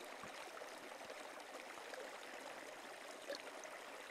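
Water spills from a gold panning pan in a soft, steady, faint wash with a few small splashes and no speech.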